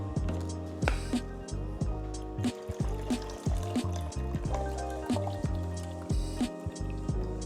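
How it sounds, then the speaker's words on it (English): Developer drains from a Lomo daylight developing tank for 35 mm film, liquid gurgling, dripping and trickling in irregular close bursts, quiet and alone. "we're getting ready to discharge and I prepare my fix."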